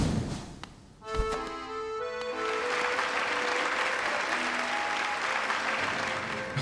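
Crowd cheering and applauding in the video game Hollow Knight, a sustained dense roar of clapping and cheers that swells in after a short thud and stays loud and steady throughout.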